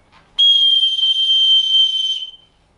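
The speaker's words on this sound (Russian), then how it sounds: "Вот сейчас он поймет, что ты посвистел." A person gives one long, steady, high whistle to call a German Shorthaired Pointer puppy during training, close and loud, lasting about two seconds with no talk over it.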